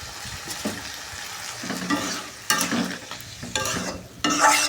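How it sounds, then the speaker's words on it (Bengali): Yardlong beans frying in a pan as a little water is poured in, with loud sizzling bursts flaring up several times over a steady background hiss and no talking. "এখন সামান্য পরিমাণ পানি অ্যাড করে দিলাম।"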